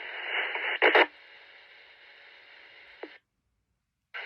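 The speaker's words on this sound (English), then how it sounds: "Radio check loud and clear." A GMRS two-way radio check transmission through a small UHF antenna crackles with a hiss of static, a couple of clicks as the key drops, then brief silence before another burst.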